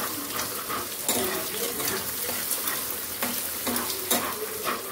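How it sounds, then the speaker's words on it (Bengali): Beaten eggs for an omelette fry in a pan with a loud, continuous crackling sizzle, punctuated by spatula scrapes and light clinks against the pan, close up and without speech. "এবারে এটাকে আমি ভালো করে এখন ডিমগুলোকে আগে ভেজে নিই"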